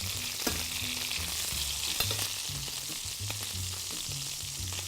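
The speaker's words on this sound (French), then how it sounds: "On arrive à la fin de la cuisson de nos riz de veau" Veal sweetbreads frying in nutty brown butter with a steady, close sizzle and crackle throughout, plus occasional sharp pops and scraping stirs.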